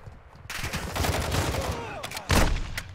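Gunfire in Call of Duty: Warzone 2.0, a dense run of shots and bursts, loud and close, with a heavier blast near the end and game noise in between.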